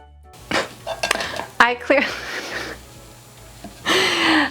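A spoon stirs peach pie filling with flour, cinnamon and lemon juice in a bowl, making scattered clinks and scrapes against the dish, with brief breathy vocal sounds in between.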